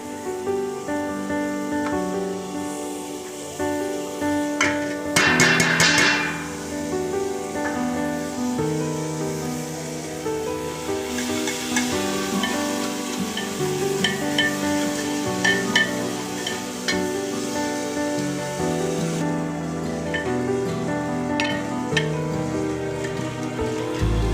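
Chopped onions and chilies hiss and crackle in a tadka paste frying in a pan for mustard greens saag, a steady close sizzle throughout with occasional louder spatters and clinks.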